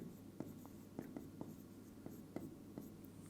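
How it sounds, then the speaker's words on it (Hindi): Pen scratching on paper while a maths problem about parallelograms and triangles is worked out, soft irregular strokes and taps close by, quiet and alone with no talk. "चलिए तो इधर लिख लेंगे"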